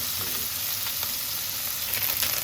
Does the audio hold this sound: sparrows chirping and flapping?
no